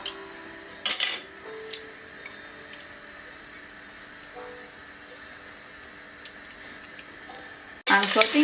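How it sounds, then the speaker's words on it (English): Garlic, ginger, bay leaves and mild green chilies sauté in a pan with a quiet steady sizzle, broken by a few brief utensil clinks near the start and a loud burst of clatter at the very end. "I'm sauteing garlic and ginger here with the bay leaf and 3 mild green chili."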